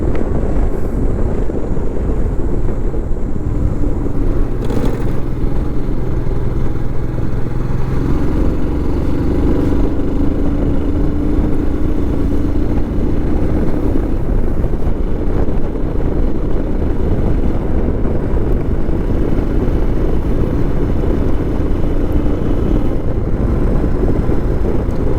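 Steady, loud motorcycle engine drone with heavy wind buffeting at the microphone on a ride from Guwahati to Nongstoin, continuous for the whole stretch with faint shifting engine tones and no voices.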